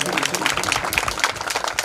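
A crowd at a Mahakali Mata devotional gathering at Gangadiya Dham claps together to honour a devotee, producing a steady, dense patter of many hands that stays fairly loud and even, with indistinct voices mixed underneath.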